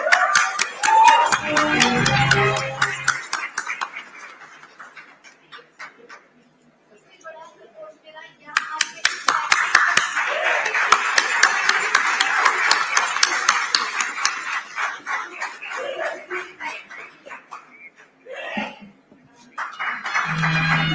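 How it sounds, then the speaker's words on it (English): An awards ceremony audience applauds in two bursts of brisk, crisp clapping: one at the start that dies away, then a longer, fuller round after a short quiet gap, with a voice heard between. "a huge round of applause for Hina Saifi"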